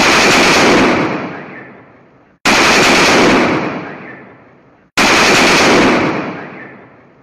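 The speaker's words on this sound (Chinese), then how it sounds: "这么大的枪声根本吓不到演员爽" A gun fires on a film set in three loud, close bursts of rapid gunfire, each dying away over about two seconds before the next begins, with no voices.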